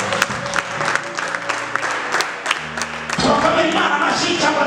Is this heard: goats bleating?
no